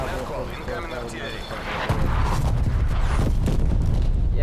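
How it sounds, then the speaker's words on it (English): Incoming artillery in Call of Duty Cold War: a heavy, rumbling barrage that swells sharply near the two-second mark and keeps roaring loud, with a voice talking over it. "That's not Nav call, what incoming artillery."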